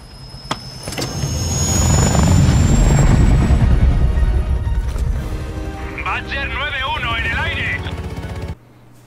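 A helicopter in Call of Duty Black Ops Cold War on Xbox Series S rumbles steadily with engine and rotor noise, loud and close, while game dialogue and radio-style voices talk over it.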